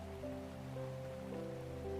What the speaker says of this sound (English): The rain is falling sideways now, and it's shattering against the side of your house